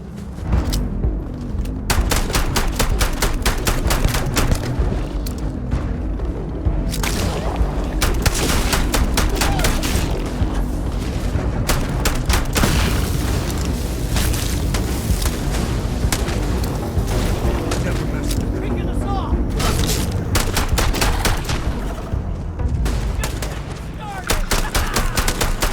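Heavy gunfire during a Starfield firefight, dense rapid bursts and booming shots piling up continuously for the whole stretch, loud and close, with occasional shouted voices mixed under the barrage.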